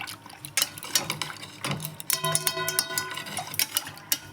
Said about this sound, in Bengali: এটাকে আমি ভালো করে দিয়ে নাড়াবো